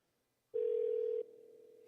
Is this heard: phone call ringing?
yes